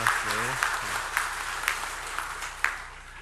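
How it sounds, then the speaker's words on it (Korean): Church congregation applauding the choir after a service performance, a broad steady clapping wash with a voice speaking briefly at the start, moderately loud and fading slightly toward the end. "우리 옥세이 스타를 위해서 한번 격려의 박수 한번 하도록 하겠습니다"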